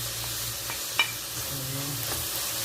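Onions and ginger paste sizzle in a pan as a spoon stirs them, a steady frying crackle with a few scraping strokes and one sharp tap against the pan.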